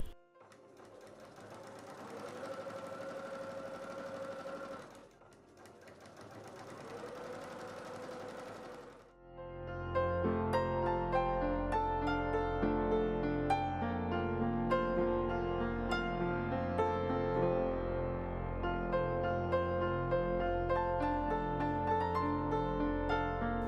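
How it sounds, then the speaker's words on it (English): A sewing machine runs in two short bursts, then stitches steadily at a quicker, rhythmic pace, close and continuous with no talking. "I then set my sewing machine to the longest stitch length and sewed two lines next to each other"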